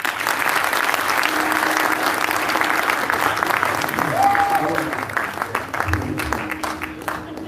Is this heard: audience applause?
yes